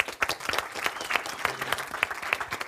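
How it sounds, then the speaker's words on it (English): Audience applause at a hypnotherapy business seminar, a smaller crowd clapping with distinct individual claps audible in an uneven, moderately close patter that stays fairly consistent from start to finish. "Give him a round of applause, folks."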